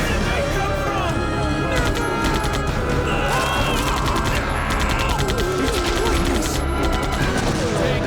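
Dense, continuous gunfire as police shoot zombies in Resident Evil 3, rapid overlapping shots and crashes mixed with crowd noise, loud and unbroken, with a voice talking over it.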